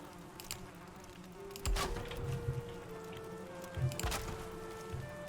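Bees buzzing in the video game Valheim, a faint, steady insect drone with soft passing swells and a couple of brief louder thumps, no talk.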